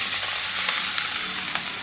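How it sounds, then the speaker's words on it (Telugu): Curry leaves sizzle and crackle steadily in hot oil as upma is being prepared, a continuous close frying hiss with a few sharper pops. "ఫ్రై అయింది, కరివేపాకు వేసుకోండి."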